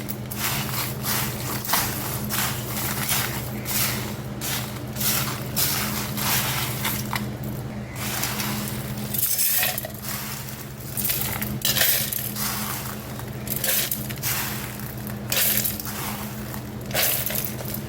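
Roasted sesame, horse gram and black urad dal ground with salt into dry idli podi in a mixer: a steady, loud electric whirr with a low motor hum and gritty rattling, continuous throughout.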